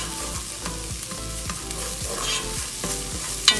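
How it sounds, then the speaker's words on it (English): Garlic and peppers fry in a pan with a close, busy crackle and repeated quick scraping stirs in an uneven rhythm, ending on a sharper spatter. "I'm gonna go ahead and add the garlic. Just let it cook for a few seconds with the peppers."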